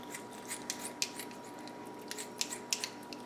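Kitchen scissors snip through a raw chicken joint at the wing while the bird is prepped for the freezer, giving a series of quiet, close, sharp clicks and crunches at irregular intervals over a faint steady hum.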